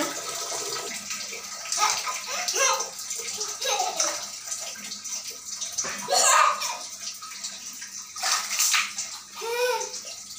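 A small child splashing about in bath water from a bucket: uneven bursts of splashing and sloshing, close by, with a voice and an adult speaking between them.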